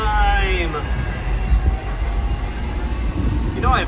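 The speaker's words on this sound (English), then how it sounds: "riding a tram down Hong Kong Island" A tram rolls along a street on Hong Kong Island, its steady low rumble filling the ride, with wheels squealing in high, drawn-out tones at the start and again near the end, heard from on board.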